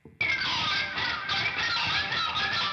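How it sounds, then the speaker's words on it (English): A harsh continuous scraping rasp as guitar strings are rubbed crosswise, demonstrating a sound from a song, starting abruptly and holding steady with a bright, noisy high edge. "when you rub the strings vertically across the lower high strings. And it sounds like this."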